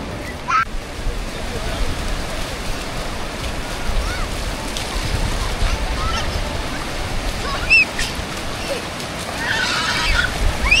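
Ocean surf rolls in continuously at a Queensland beach near Surfers Paradise, a loud, steady wash of breaking waves with brief honking or shrill calls rising over it.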